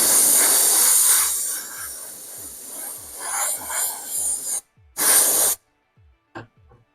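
Spray gun hissing out paint for a custom paint job, long steady bursts that fade and restart, ending in two short sharp sprays with silence between.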